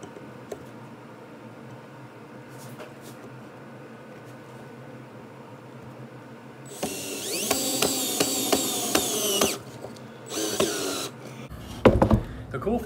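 A screw being driven into wood for a watch display stand: a quiet stretch, then a loud whirring burst of a power driver for a few seconds, a short second burst and a final knock.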